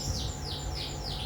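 Canaries recovered from illness chirp in repeated rising-falling tweets, four clear calls over a steady low hum, close and fairly loud.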